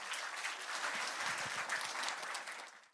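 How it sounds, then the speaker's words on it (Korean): A crowd applauds steadily for a few seconds, a dense wash of clapping that fades out at the end; any cheering is hard to pick out. "큰 박수와 함성으로 맞아주시기 바랍니다"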